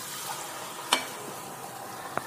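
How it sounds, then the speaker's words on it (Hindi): Puree goes into a hot pan of Kashmiri red chilli for paneer butter masala, producing a steady close sizzle with a sharp clink near the start and a brief knock just before the end. "बहुत जल्दी से हमें प्यूरी डालनी है इसमें"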